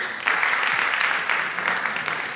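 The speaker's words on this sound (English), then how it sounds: "A round of applause." Student audience at a junior high school quiz competition gives a round of applause, a dense, even burst of many hands clapping that swells in quickly and holds at moderate loudness.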